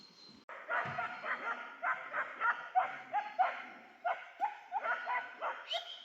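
Several dogs bark and yip in a rapid, irregular volley at mid distance while chasing off a stray dog near a waterfall, with excited overlapping barks continuing throughout.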